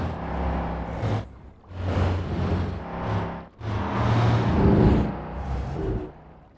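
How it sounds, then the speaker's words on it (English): A garbage truck engine in the city-builder game Cities Skylines 2 revs and drones steadily for several seconds, a loud, fairly sporty whir that rises and dips in surges. "this thing sounds sporty for a garbage truck"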